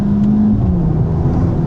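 A 2025 Mercedes-AMG GT 43 with a four-cylinder engine accelerates past 4,000 RPM, a steady, muted engine drone with a rising tonal note, heard close from inside the car and continuous throughout.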